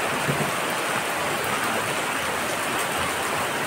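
Steady rainfall in Bacoor, Cavite, a constant even hiss of falling water that stays uniform and moderately loud throughout, with no voices.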